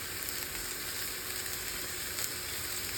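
Udon noodles stir-fry in a hot wok with a steady, dense sizzle and crackle that stays close and even throughout, with no voices.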